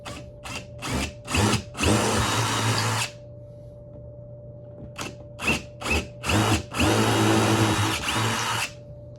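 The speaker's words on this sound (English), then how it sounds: "Start with smaller holes first. So I'm gonna drill those out." A power drill bores small holes into a coconut shell being made into a kalimba thumb piano. Several short, loud, close bursts of whining are followed by longer runs, with quiet gaps between them.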